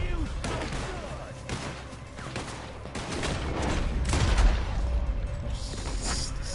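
Rapid bursts of gunfire crackle through a Red Dead Redemption 2 shootout cutscene, with booms and mechanical clatter layered over a dense, loud game mix while voices talk.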